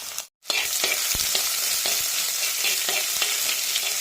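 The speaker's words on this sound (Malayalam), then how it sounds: "ഇഞ്ചി വെളുത്തുള്ളി ചുവന്നുള്ളി ഇത് ചതച്ചത് ഒന്ന് ഇളക്ക് വടയ്ക്കാം" Crushed ginger, garlic and shallots sauté in hot oil with a steady, close sizzle and faint clicks of stirring against the pan, briefly cut off near the start, with no voices.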